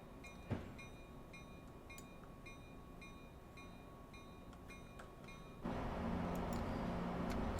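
A CSX genset locomotive in Train Simulator 2019 on the New York New Haven route rolls along with a steady low rumble and faint periodic clicks. The sound swells noticeably louder for the last couple of seconds, with no talking.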